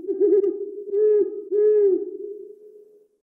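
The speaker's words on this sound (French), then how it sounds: "Le hibou grand-duc." A Eurasian eagle-owl hoots deeply, with three loud, drawn-out hoots in close succession, the last fading away into silence with no other sound around.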